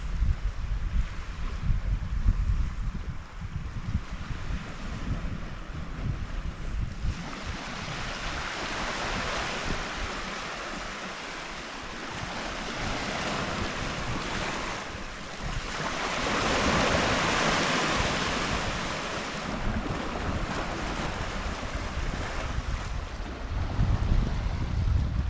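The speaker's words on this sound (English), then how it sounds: "The breeze that's coming in from the sea is actually quite cool" Steady sea breeze rushes across the microphone with a broad hiss, the wash of surf beneath it, rising and falling gently throughout, at Camp de Mar.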